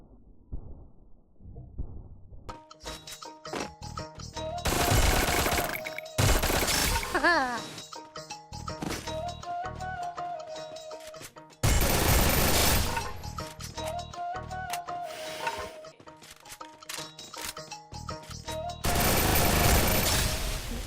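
Bursts of MP40 submachine gun fire in a shooting video game, several loud rapid volleys spread across the clip, with game effects and music tones between them.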